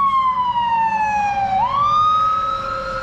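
A fire truck siren wails loud and close, one long steady tone that sags, then swoops back up and holds, with no voices over it.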